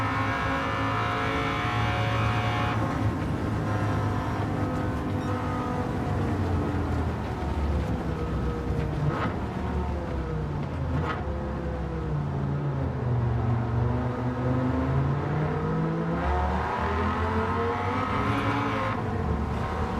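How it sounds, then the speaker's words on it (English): Race car engines from the Gran Turismo 7 video game, large eight-liter-plus motors, rev and shift continuously with rising and falling harmonic whine, loud and sustained throughout. "at least we have amazing engine sounds while all of this has been happening"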